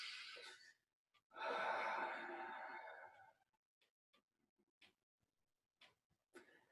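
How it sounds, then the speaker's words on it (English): Slow, deep breathing during a neck and shoulder release lying on tennis balls: a long airy exhale near the start, then quiet with a few faint soft breaths and small clicks. "taking a few deep breaths"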